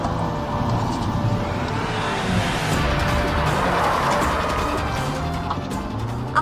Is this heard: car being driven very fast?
yes